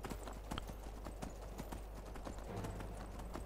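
A horse's hooves in the video game Skyrim, climbing stairs, clip-clop in a quick irregular rhythm of sharp, close steps throughout, with a background hum and no talk.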